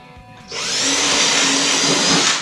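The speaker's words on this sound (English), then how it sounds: "use a little regular old 1/8 inch drill bit or something like that to drill me a couple of starter holes" A power drill running a 1/8 inch bit into plywood to bore starter holes for a DIY plyometric box, spinning up after a half-second pause into a steady, loud, continuous whine that holds for about two seconds with no talk.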